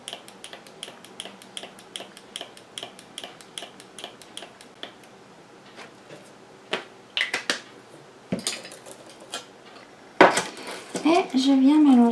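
A spoon stirs after-sun lotion made with aloe vera gel in a bowl, giving a run of light, regular clinks and scrapes, with a few louder knocks and a rustle near the end.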